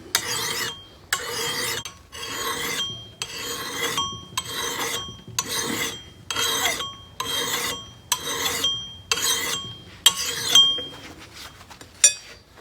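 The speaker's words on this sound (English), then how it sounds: "Bump your file occasionally to get the little filings out of it, out of the grooves." A hand file rasps across an axe edge in about eleven steady, evenly spaced strokes, close and loud, with no voices over it.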